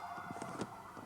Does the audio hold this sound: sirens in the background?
yes